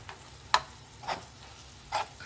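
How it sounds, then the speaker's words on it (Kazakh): Minced meat is stirred as it fries in a pan, with three soft, separate scraping strokes over a quiet sizzle and no talk. "Енді ең бастысы жақсылап араластыру керек"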